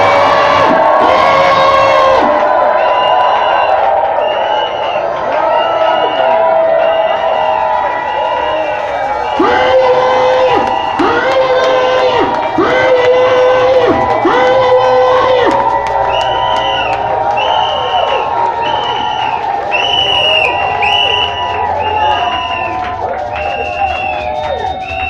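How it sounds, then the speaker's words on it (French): A church congregation shouts and cheers for joy during worship, a loud sustained crowd roar with whoops and cries layered over rhythmic music, going on continuously. "Poussez des cris de joie"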